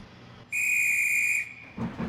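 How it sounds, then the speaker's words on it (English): A steam engine's whistle sounds once, a single loud, bright sustained tone held for about a second against a quiet hissing background, with faint rumbling after it stops. "You know, blowing steam, whistle, that sort of thing."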